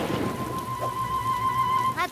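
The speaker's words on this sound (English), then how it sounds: "It's raining a lot now." Steady heavy rain hisses throughout a Numberblocks cartoon scene, with a high whistling tone running over it and a brief rising squeak near the end.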